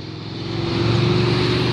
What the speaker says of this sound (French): Oh, la moto, mec.